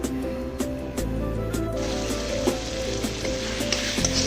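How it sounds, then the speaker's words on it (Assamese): Meat sizzles steadily in a pan with onion, spices, ginger and garlic, a close, continuous hiss with occasional stirring scrapes and clinks and no voices. "মাংস এইফালে ধুনীয়াকৈ পিঁয়াজ মছলা আদা নহৰুৱে ধুনীয়াকৈ ভাজি আছোঁ"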